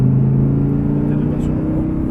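An Audi R8 engine drones steadily at close range while accelerating on a race circuit, a low constant hum under a voice talking.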